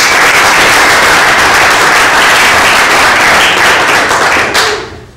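A conference audience breaks into a big round of applause, dense steady clapping that fills the room for about five seconds before tapering off at the end.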